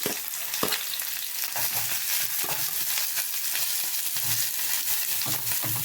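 Oil sizzles steadily with crackling pops as mustard seeds and onion fry, punctuated by a few stirring scrapes; no one speaks.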